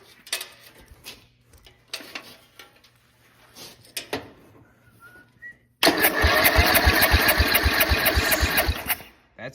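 A racing lawn mower engine cranks and catches after a few quiet clicks and knocks, then runs loud and steady close by before cutting out near the end.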